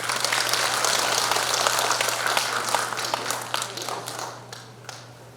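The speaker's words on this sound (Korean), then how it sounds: "큰 박수로 맞으시기 바랍니다." A dense round of audience clapping at a Democratic Party regular delegates' convention greets a party leader candidate. It sustains steadily, then thins and tapers off toward the end.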